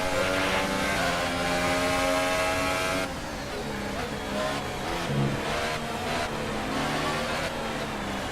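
Formula 1 car engine in the F1 2018 video game at the Monaco Grand Prix, a steady loud racing-engine drone with shifting pitch and another change partway through, continuous throughout.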